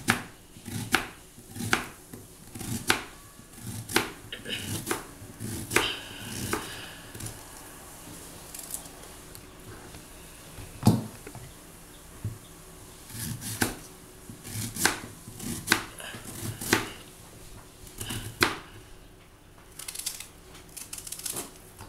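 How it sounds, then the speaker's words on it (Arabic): A knife chops through onion into round slices on a board, a steady run of sharp close thuds in irregular bursts with brief pauses, no talking, while preparing a Tunisian potato and beef tajine. "البصل باش ناخذوه نعملوه روندالات شرايح هكا"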